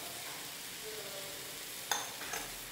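Mutton for a Guntur-style fry sautés with salt in a pan, a steady soft sizzle with stirring underneath and a couple of brief metallic clinks near the end.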